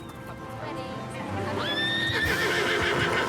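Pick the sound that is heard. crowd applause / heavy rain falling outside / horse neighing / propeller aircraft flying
horse neighing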